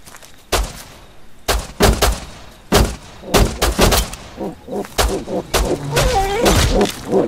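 Pistol shots fired during a bear encounter in the survival video game Rust: several sharp, loud cracks spaced irregularly, with game noise and rustling between them.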